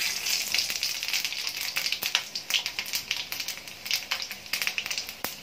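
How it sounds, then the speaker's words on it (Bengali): Panch phoron and dried red chillies sizzle in hot mustard oil left from frying fish, a close, loud, crackling hiss with dense irregular pops throughout. "এবার আমি এই মাছ ভাজা তেলের মধ্যেই দিয়ে দেবো 5 ফোড়ন আর শুকনো লঙ্কা ফোড়ন"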